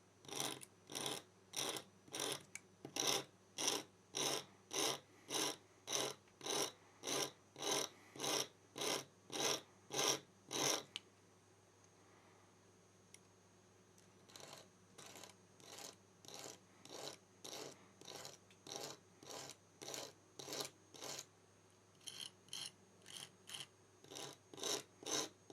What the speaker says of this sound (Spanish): Ahora vamos a lijar un poco la punta también, porque es muy afilada